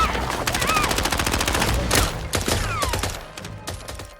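A long-range gunfight in a film, with dense, rapid rattling gunfire and sharp individual shots layered throughout, loud and sustained, with faint whistling ricochets and voices under the shooting.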